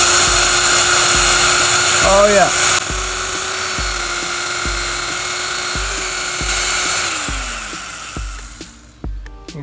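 A drill boring a 3/4 inch hole in wood for a carpenter bee trap, a loud steady whine running close for several seconds before slowing and stopping, with a brief spoken remark partway through.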